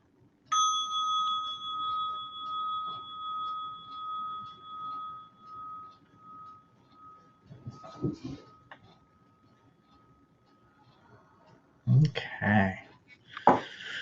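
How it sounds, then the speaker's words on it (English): A meditation bell is struck once and rings out with a clear, sustained tone that slowly decays over several seconds, followed by faint rustling and movement noises near the end. "We'll end our short little meditation here by ringing the bell."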